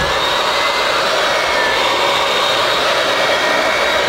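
An electric mixer beats carrot cake frosting of butter and cream cheese, a loud, close, steady whirring drone with a high motor whine that holds unbroken for the whole stretch, with no voices over it.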